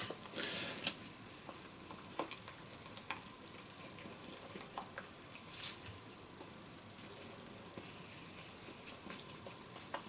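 Water trickles and splashes into a plaster mix for a mold shell, a soft close pouring with drips and faint wet patter, no talk.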